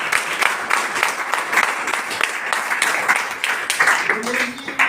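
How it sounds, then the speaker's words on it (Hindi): Enthusiastic applause at a community gathering in a rural village area, broadband clapping sustained throughout, with talk and voices mixed in underneath. "जोरदार तालियां उनके लिए।"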